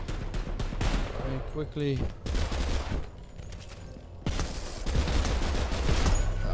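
Gunfire in the video game KOMPETE, with rapid bursts of shots and scattered single reports mixed with game effects, while players talk over the action.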